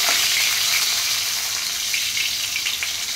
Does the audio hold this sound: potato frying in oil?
yes